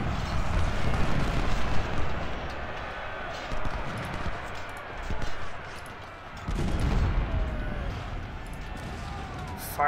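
Musket volleys and artillery booms from a Civil War battle in Ultimate General: Civil War rumble steadily in the background, punctuated by a couple of louder low thuds, beneath a voice giving orders.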